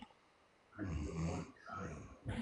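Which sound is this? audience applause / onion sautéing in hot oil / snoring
snoring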